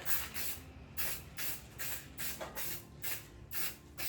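Repeated hissing bursts from a spray paint can, about eight short pulses in a steady rhythm, close and fairly loud with no talking.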